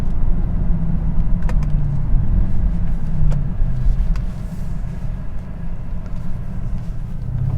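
A 2022 Mercedes-AMG GLS 63 in Sport Plus mode with exhaust valves open cruises along, its engine and exhaust giving a constant deep rumble inside the cabin, with a few faint clicks over the drone.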